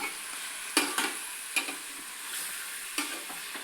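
Fish curry base frying in hot oil, a continuous bright sizzle with a few sharp stirring knocks scattered through it, close and fairly loud.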